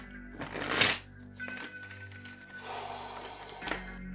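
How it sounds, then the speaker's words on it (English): A deck of oracle cards is shuffled close by in two quick riffling bursts, with softer handling and card taps between them. "Let's pull Oracle cards, find out more."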